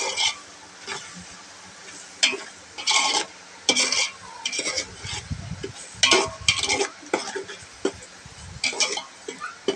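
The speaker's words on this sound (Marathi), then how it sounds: "तो व्यवस्थित फ्राय करून घ्यायचा आहे." Chicken biryani ingredients being fried in a pan and stirred, with repeated bursts of rasping scrapes and clinks over a low sizzle, close up and irregular in rhythm.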